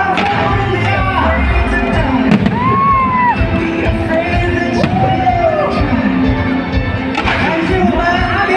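Fireworks crackle and boom over a dense, cheering crowd at an evening gala marking Changhua County's 300th anniversary, with whistling rising streaks and continuous crowd noise throughout.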